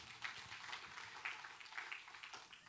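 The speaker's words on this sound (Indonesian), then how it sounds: "Berikan tepuk tangan bagi Tuhan." A church congregation applauds during a Good Friday service, a faint, distant patter of many hands clapping with scattered sharper claps, steady and without talk.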